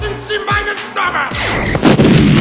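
A gunshot from the Futurama cartoon bursts out sharply amid quick animated sound effects and sweeping tones, loud and close in a short busy moment.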